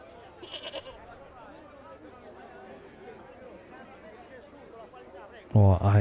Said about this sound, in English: The goat is actually talking.